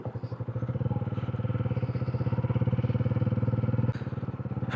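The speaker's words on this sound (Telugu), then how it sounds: "కార్స్, బైక్లు అన్నీ వెళ్తున్నాయి." Motorbike engine running steadily close by on a road near a forest bridge, a continuous loud pulsing throb with a brief dip near the end.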